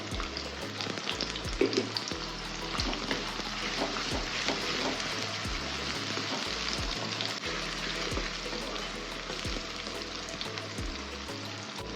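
Two chopped large onions and garlic fry in a pan with a steady crackling sizzle, close and moderately loud, with occasional clinks and scrapes of stirring throughout.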